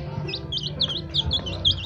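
Baby chicks being hand-fed give a run of high, rapid cheeps over a low, quiet background rumble.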